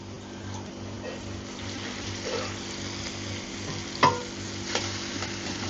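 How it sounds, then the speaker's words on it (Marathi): Rice flour is stirred with a spoon into boiling water sweetened with sugar and ghee, for Konkan turmeric-leaf patoli. A steady soft bubbling and scraping texture runs throughout, with a brief sharper clink midway. "स्पूननेच मिक्स करा"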